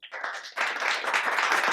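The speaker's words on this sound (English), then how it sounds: "Clapping" Enthusiastic hand clapping from a small group indoors, dense and continuous, swelling after a brief opening burst and sustained near the mic with no talking.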